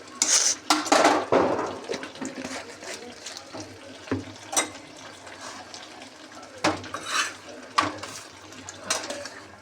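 Palak shak (spinach) being stirred and turned over with ghee in a pan, with clattering utensil scrapes and knocks against the pan in irregular bursts, fairly close.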